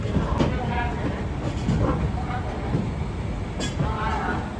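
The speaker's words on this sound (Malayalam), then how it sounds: "അങ്ങനെ നമ്മുടെ ട്രെയിന് ദീൻ ദയാൽ ഉപാധ്യായ ജംഗ്ഷൻ എന്ന റെയിൽവേ സ്റ്റേഷനിലേക്ക് എത്തിക്കൊണ്ടിരിക്കുകയാണ്" A train pulls into Deen Dayal Upadhyaya Junction, a large railway station in Uttar Pradesh, with a continuous loud rumble and scattered clanks and knocks from the carriages.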